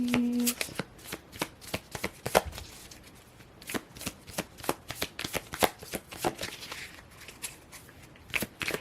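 Tarot cards shuffled by hand, a fast run of crisp riffling snaps and soft slaps in an irregular rhythm, close and clear, with a brief tone at the start.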